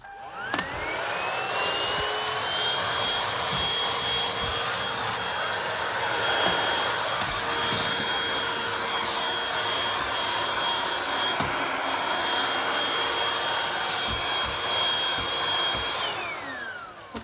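A Vax Slim cordless vacuum cleaner spins up to a steady, high whirring drone and runs continuously up close, with light scraping and bumps from handling, then winds down at the end.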